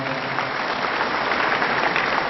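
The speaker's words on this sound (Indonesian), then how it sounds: "Tepuk tangan juga untuk beliau." Audience applause greeting the West Java provincial DPRD vice chairman at a formal party gathering, a steady, dense clapping from a crowd filling the whole moment without voices.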